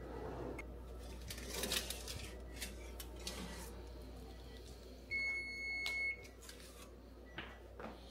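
In a home kitchen, a kitchen timer being set gives out a steady electronic beep lasting about a second, faint against quiet clattering and low room hum.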